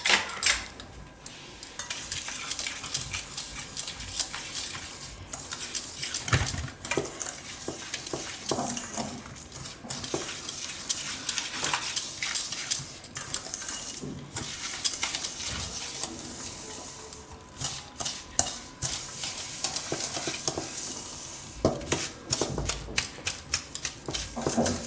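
Ghee and sugar mixed together in a bowl for a coconut cake, producing rapid, uneven clicking and scraping of a spoon against the sides, dense and fairly close throughout.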